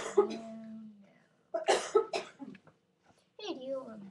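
A person clears their throat and coughs in short separate bursts, mixed with brief vocal sounds, close to the microphone.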